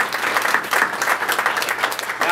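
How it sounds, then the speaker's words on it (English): Audience applause at a Frederick Douglass Award presentation, a loud, continuous wash of many hands clapping together, close and unbroken throughout. "Give them all a round of applause."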